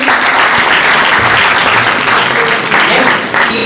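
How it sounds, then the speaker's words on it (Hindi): Loud, dense applause fills a hall at a university quiz competition, running steadily for nearly four seconds before cutting off abruptly, with some voices mixed in beneath the clapping. "के लिए भरपूर तालियां होनी चाहिए"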